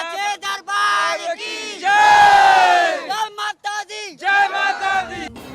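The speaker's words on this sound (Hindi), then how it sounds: "परिसर जय माता दी के नारों से गूंजता रहता है।" Devotees at Bamleshwari temple during Navratri chant Jai Mata Di, loud rhythmic massed voices rising into a sustained group shout midway, then resuming in short repeated bursts.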